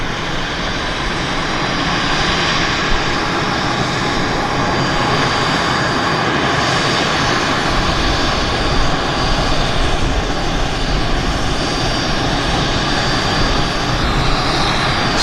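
Airliner engines at Vancouver Airport, a steady, loud, broadband roar holding at a constant level throughout, with no talking over it.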